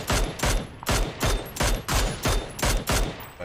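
Gunfire in the video game PUBG on the Miramar map: seven loud, evenly spaced shots crack out close by in a steady rhythm, with no talking over them.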